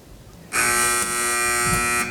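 A harsh electronic quiz competition buzzer blares suddenly and holds for about a second and a half, loud and close, with no talking over it.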